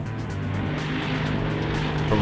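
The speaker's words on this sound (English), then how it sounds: "the near silent hum of the MX-5" A Mazda MX-5 driving on a race track, its engine a steady, fairly loud hum with a slight rise near the end, heard alone without talk.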